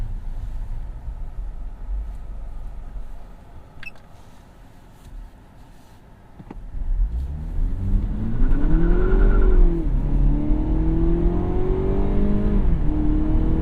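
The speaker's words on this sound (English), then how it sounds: "All right, this time I'm gonna do a milder launch." A 2017 Cadillac CT6 with a 2.0L turbo engine launches from a stop, its engine note rising loudly in pitch through the gears after a quiet idle, heard from inside the car.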